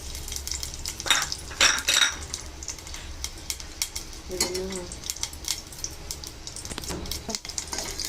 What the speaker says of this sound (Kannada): ಅದನ್ನು ಚೆನ್ನಾಗಿ ಕರ್ಕೊತಾ ಇದ್ದೀನಿ. ತುಪ್ಪದಲ್ಲಿ.